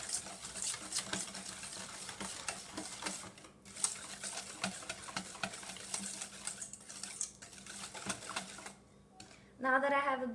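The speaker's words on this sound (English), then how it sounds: "I think using a hand whisk works just as fine." Hand whisk beating vegan chocolate cookie batter in a bowl, a steady run of quick scraping, tapping strokes that continue throughout before a brief louder swirl at the end.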